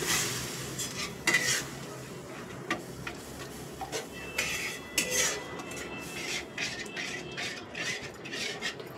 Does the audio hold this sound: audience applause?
no